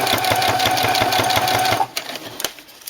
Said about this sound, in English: Keep stitching